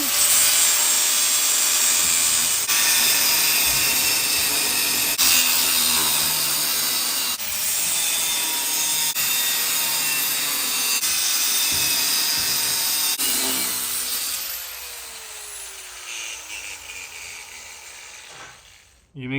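A power saw cuts through a steel muffler mount on a Wasteland Racer chassis, a loud, continuous grinding rasp in repeated strokes that fades and stops near the end.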